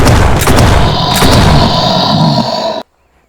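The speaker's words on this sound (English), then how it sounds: "We're gonna switch to the shotgun for you." A shotgun fires in the animal-hunting video game Animallica, giving loud, close, booming blasts with rough roaring texture over about three seconds before the sound cuts off abruptly to silence.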